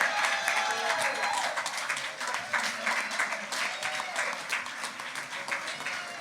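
Audience applause for the Lieutenant Governor at a political event, steady dense clapping from a large crowd throughout, loud and continuous with a few faint voices mixed in.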